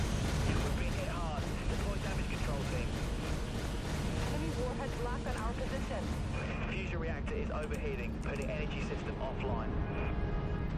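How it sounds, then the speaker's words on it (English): Small missiles striking the player's ship in the space-combat game Dreadnought, a rumbling run of overlapping muffled blasts and pops over dense battle noise, with someone talking over it. "No, little missiles hitting us."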